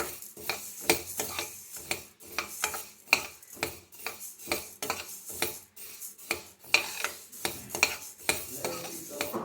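Fenugreek seeds dry roast in a pan for raw mango pickle, with a steady rhythmic scraping and stirring of a utensil against the metal and a light rattle of seeds throughout.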